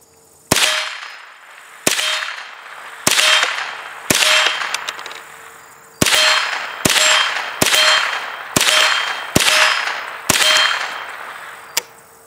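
Ten gunshots are fired at a freshly painted target at a shooting range while a red dot sight is tested, sharp loud cracks spaced about a second apart, each followed by a ringing steel clang.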